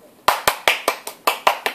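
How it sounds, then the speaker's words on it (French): Eight separate, sharp hand claps ring out close by at a fairly even, slightly uneven pace, with short quiet gaps between them. "Applaudissez."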